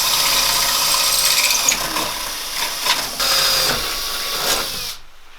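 Ratchet tightening a bolt on a Genright roll cage being installed in a Jeep JKU, a loud, close run of rapid mechanical clicks in bursts that stops abruptly at the end.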